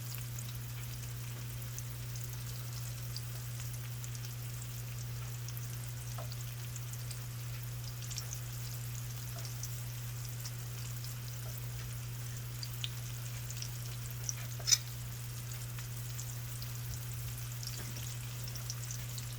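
Battered cauliflower steaks fry in olive oil with a soft, steady sizzle, faint and continuous over a low electrical hum, with a couple of small pops near the end.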